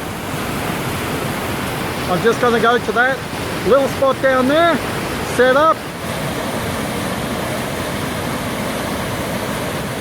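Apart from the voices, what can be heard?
waterfall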